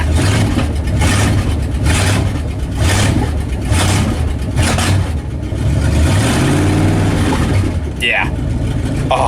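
A 1967 Dodge Dart engine runs steadily and loudly with a low rumbling drone and slight revving swells, with people talking over it.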